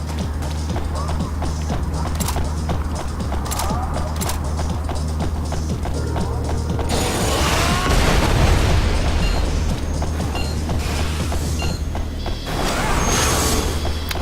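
Bomb explosions in the video game Phantom Dust, heavy booms and bursts that swell in the middle among clattering game effects and mechanical sounds, loud and close.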